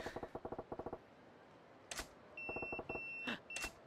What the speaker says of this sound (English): My beeper.